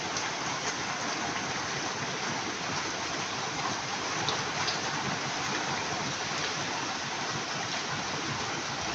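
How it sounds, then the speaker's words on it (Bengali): Heavy rain pours steadily outside near the Indian border, a dense, loud, unbroken hiss of water falling on surfaces that lasts throughout with no voices. "বাইরে কিন্তু গাইস প্রচুর পরিমাণে বৃষ্টি হচ্ছে"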